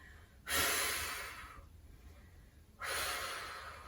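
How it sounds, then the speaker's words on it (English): Two strong, breathy exhalations during a Pilates core exercise, each a loud forceful rush of air through the nose or mouth, the second following about two seconds after the first, with no talking. "Good breathing."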